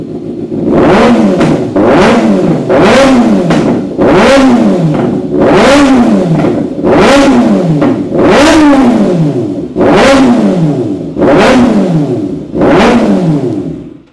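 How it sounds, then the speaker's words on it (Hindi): A Kawasaki ZX6R 600cc motorcycle engine revving hard in about ten evenly spaced blips, each snapping up to a loud high-pitched howl and dropping back, very close with no speech. "कावासाकी ZX6R की बड़ी प्यारी आवाज़ है भाई 600 सीसी के अंदर"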